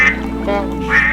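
Quacking from a pair of large geese or ducks in a radio drama, two or three nasal calls in about a second, close and loud.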